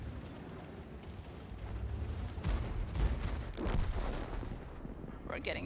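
In a tank video game, a tank cannon fires several heavy booms around the middle of the sequence, each with a rumbling tail. They sound fairly distant and muffled over wind-like noise, with faint talk at the end.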